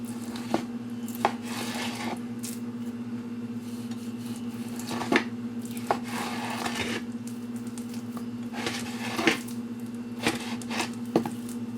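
A knife cuts boneless pork chops on a kitchen board, giving a series of irregular sharp chopping taps and soft squishy slices, moderately close, over a faint steady hum.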